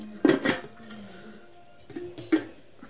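Metal lid of a Pigeon Stovekraft 3-litre hard anodised pressure cooker handled during unboxing, giving two sharp clinks with ringing tails about two seconds apart, close and fairly loud, with no speech.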